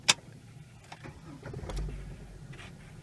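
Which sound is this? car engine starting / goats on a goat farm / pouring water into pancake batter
car engine starting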